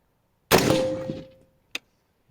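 A gunshot strikes a Hardox 500 steel plate: one sharp, loud crack with a metallic ring that hums on for about a second before fading, then a single brief click.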